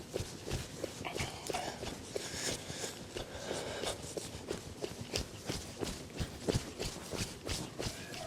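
Hoofbeats of a two-year-old gelding moving forward near cattle, a steady run of close clip-clop strikes mixed with shuffling and rustling, with no talking.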